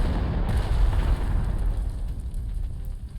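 Artillery fire in the Panzer Corps 2 war game, heard as a heavy low rumbling boom that swells and then slowly fades, loud and continuous for a few seconds with no speech.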